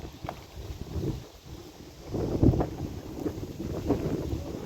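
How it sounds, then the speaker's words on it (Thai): Wind gusts and buffets the microphone outdoors in uneven low rumbling surges that swell louder in the second half. "โอ้ลมแท้"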